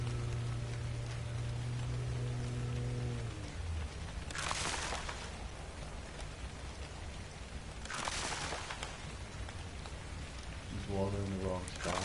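Rain drumming on a house roof in Ark: Survival Evolved on PS4: a steady hiss that swells into two louder downpour bursts, with a person talking at the start and again near the end.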